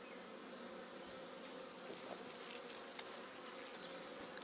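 A swarm of bees buzzes close up inside a WBC hive, a dense, steady drone of many wings with a few louder passes, and no voices.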